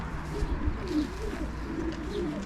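Racing pigeons coo softly as several birds land together at a home loft after a race from Szczecin, a low murmuring call repeating over steady background rumble, close by and moderately quiet.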